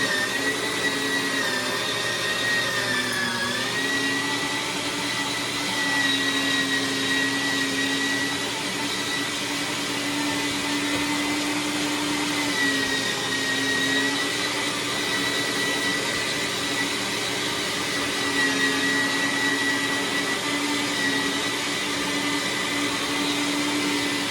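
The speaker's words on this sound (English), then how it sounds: "It's grinding sausage." A meat grinder runs steadily while grinding deer meat for sausage, a loud, continuous motor whine with a constant mechanical drone and slight pitch wavers, heard alone with no talking.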